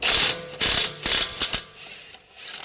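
A power tool with a 22 mm socket spins off the strut nut on a 2011-2017 Honda Odyssey, several short loud ratcheting bursts close up with brief pauses between, no talk.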